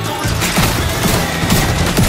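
Rapid video game gunfire rattles in quick repeated bursts, loud and close, with several sharp thuds spaced about half a second apart.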